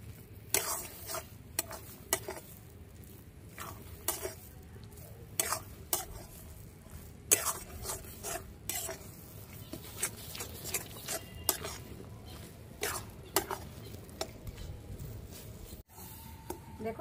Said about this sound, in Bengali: হালকা আজে নাড়তে নাড়তে একদম জলটা শুকিয়ে নিয়েছি, নাড়াচাড়া করতে করতে একদম শুকনো শুকনো হয়ে গেছে।